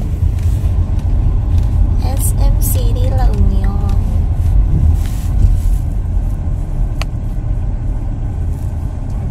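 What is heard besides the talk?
cars driving in busy mall parking area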